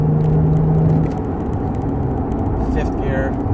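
A 2011 Lexus IS350 AWD driving, its exhaust and road noise a steady low drone from inside the cabin, with a brief tonal hum early on and faint voice sounds near the end.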